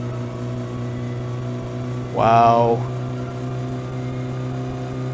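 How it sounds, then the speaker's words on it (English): Rover Satsuma car engine in the My Summer Car video game, droning steadily at high revs with a brief louder rising surge partway through, and a person exclaiming over it. "just listen to those revs"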